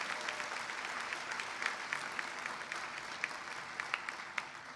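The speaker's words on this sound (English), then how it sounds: "please join me in offering applause for Adriana." A crowd applauds at a high school commencement ceremony, steady distant clapping with occasional sharper individual claps standing out, fairly faint throughout.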